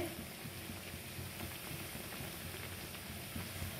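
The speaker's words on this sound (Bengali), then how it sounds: "আমি কিন্তু খুব সুন্দর করে লাল লাল করে ভেজে নেব।" Sweets fry in hot oil until reddish, giving a steady, soft bubbling sizzle with scattered light crackles throughout.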